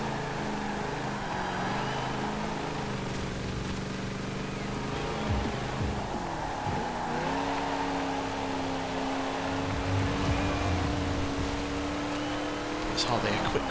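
An old, underpowered American car drives in the racing game Forza Horizon 4, its engine droning and shifting pitch as it slowly builds speed, with someone talking over it.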